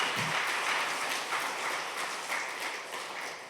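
A church congregation applauds during a Sunday service, a brief burst of steady clapping that slowly fades, with no voices over it.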